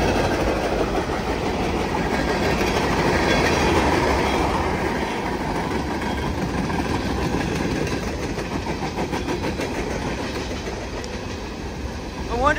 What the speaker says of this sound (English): I wonder how fast this train's going.